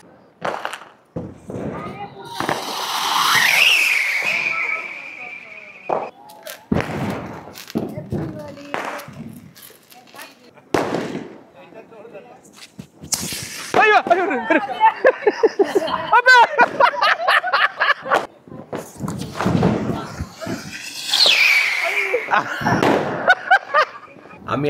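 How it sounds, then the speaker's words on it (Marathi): Diwali firecrackers and fireworks going off outdoors: sharp pops, bursts and crackling salvos, including a rapid string of crackers, with whooshing rockets, separated by gaps while people talk and exclaim between them. "फटाके तर फोडत आहे"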